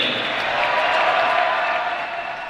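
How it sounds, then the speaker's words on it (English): A crowd at a Division III men's basketball game, Franklin vs Rose-Hulman, applauds steadily, a dense wash of clapping that swells slightly and then eases off toward the end. "big round of applause for our Rose-Hulman men's basketball senior, Bradley Harden."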